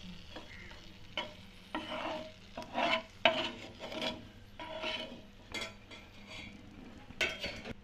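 Semolina (rava) roasting in ghee in a pan for rava kesari halwa, stirred with close, irregular scraping and rubbing strokes and a soft sizzle underneath, with no talking.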